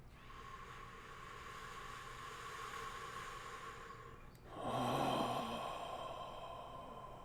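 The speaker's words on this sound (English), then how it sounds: "Breathing deep." Slow, deep breathing during a yoga practice, a steady soft airy breath that swells into a louder, fuller exhalation partway through, quiet and close with no talking.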